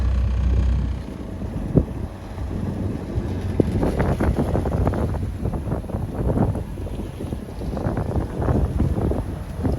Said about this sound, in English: We have a headwind, but it's not that far, so I'll tack away down.